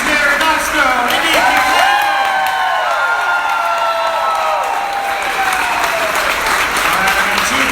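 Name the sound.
crowd applauding and cheering at a campaign kickoff speech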